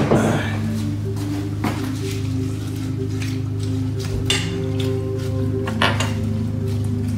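Collard green egg roll filling being mixed in a bowl, with utensils clinking and knocking against the dish in irregular taps over a steady low hum.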